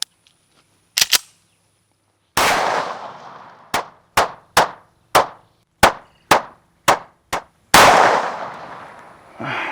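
Loud, close pistol shots from a Springfield Armory DS Prodigy Comp AOS at 7 yards with Federal HST 124 hollow points: a quick pair, a pause, then a steady string of sharp reports, one more blast trailing at the end.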